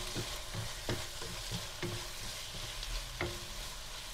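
Mushroom mixture with a little sesame oil stirred evenly in a wok, a low sizzle under repeated soft scrapes and taps of the utensil at an irregular pace.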